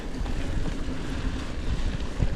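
Steady wind roars across an open outdoor spot on a cold, windy day, a continuous low buffeting rush with gusty swells and no voices.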